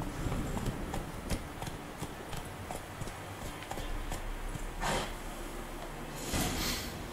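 Soft, irregular clip-clop of horse hooves in the video game The Witcher 3 on PS4, with a couple of louder thumps and scrapes, quiet and somewhat distant, no talking.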